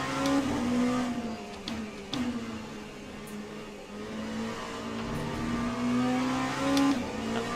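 An LMP2 race car engine in the Le Mans Ultimate racing game at Fuji, a steady loud drone that rises and falls with gear changes and throttle, with faint other cars around.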